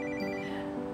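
A telephone ringtone plays steadily and alone for about a second, a bright repeating electronic melody at moderate volume in a quiet room.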